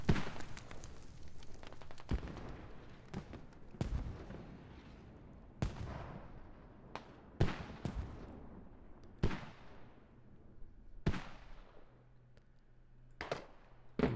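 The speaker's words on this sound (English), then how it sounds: "Mortars now already starting to land a couple of places here in the task force area" Mortar shells landing one after another in the military shooter game Squad during a 26-versus-26 esports match, sharp distant booms spaced a second or two apart, each trailing off against a quiet background.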